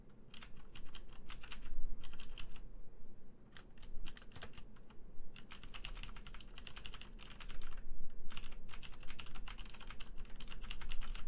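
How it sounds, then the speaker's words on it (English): Fast computer keyboard typing and mouse clicks come from a player of The Stanley Parable. Dense bursts of crisp, close keystrokes are broken by short pauses, with no talk. "You can hear me clicking, right?"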